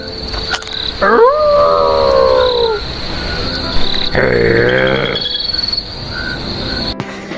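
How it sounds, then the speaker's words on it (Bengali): Cartoon dogs barking and howling at night on an empty road, with two long rising-and-falling howls over a constant chirr of crickets, loud and close. "এদিকে কুকুরগুলোও পেছন দিয়ে ডাকছে।"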